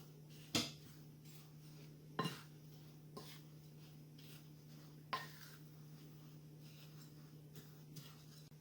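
A spoon knocks against a bowl while oatmeal cookie batter is mixed, a few sharp clinks spaced seconds apart over quiet background hum.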